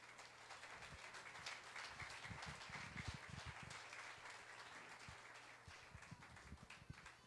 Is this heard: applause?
yes